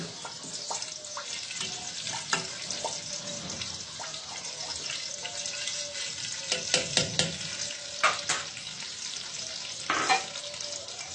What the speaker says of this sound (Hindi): एक प्याली हमने ऑयल की डाली। अब हम डालेंगे सौंफ